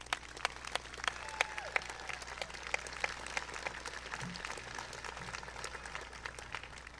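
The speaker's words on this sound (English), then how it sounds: "Audience, please join me in applauding all these candidates for their academic accomplishments." A commencement audience applauds the graduating candidates with sustained, moderately distant clapping that has distinct sharp claps poking out of the continuous patter throughout.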